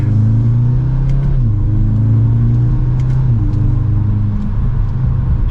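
A 2023 Audi S3 Premium Plus accelerates hard from second gear, with a loud, steady engine drone that climbs in pitch, briefly settles at about the midpoint, then pulls again, close and continuous throughout.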